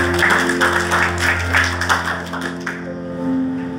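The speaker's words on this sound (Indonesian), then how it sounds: "Tepuk tangan buat Tuhan." A church congregation claps together during a sermon. The clapping is lively and ragged over a sustained musical drone, then stops abruptly partway through, leaving only the music.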